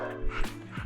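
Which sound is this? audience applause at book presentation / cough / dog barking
dog barking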